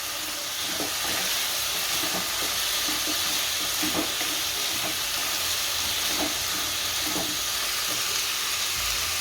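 Bottle gourd is stirred into onions and potatoes frying in oil, giving a steady, loud sizzle with soft irregular stirring scrapes mixed in, close by and without talk.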